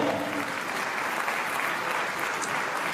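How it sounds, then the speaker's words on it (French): A crowd applauds at a French petanque competition, a continuous, even patter of clapping from spectators for the full few seconds. "Vous allez accompagner vos applaudissements."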